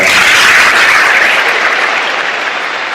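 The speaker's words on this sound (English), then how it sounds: "Let's give them a round of applause" Audience at a salute-to-heroes event applauding military family members, a loud, dense wash of clapping from a large crowd that stays steady and then eases slightly toward the end.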